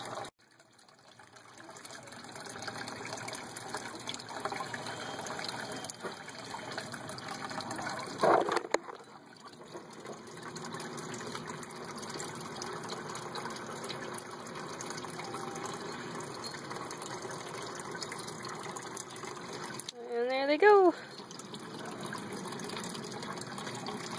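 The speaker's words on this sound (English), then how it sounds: "I just turned off the pump because I wasn't sure if you can hear things or not" An aquaponics tank's water pump runs with a steady rushing gush of water pouring into the tank, a continuous mid-level wash broken by two brief louder bumps around eight and twenty seconds.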